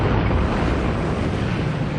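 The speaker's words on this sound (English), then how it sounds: "On the 1st of April 1945, the island of Okinawa is bombarded by the Americans." The American bombardment of Okinawa in April 1945 comes through as a loud, unbroken roar of explosions and rumble with no clear gaps.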